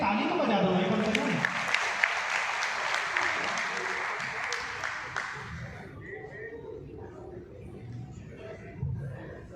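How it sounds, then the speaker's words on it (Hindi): Crowd applause for the Gujarat team at a Kesariya Hindu Vahini event, loud sustained clapping for about six seconds that fades out, followed by quieter murmuring and speech in the room. "गुजरात टीम के लिए भी ताली तो बजा दो भाई कम से कम।"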